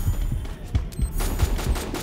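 Free Fire sniper rifle fire comes as a quick string of deep, thudding shots at a steady rhythm, loud and close, with no one talking.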